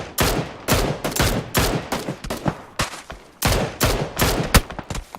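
Rapid volleys of loud gunfire from a headshot exchange in a competitive shooter video game match, sharp overlapping bursts repeating densely throughout with no talking.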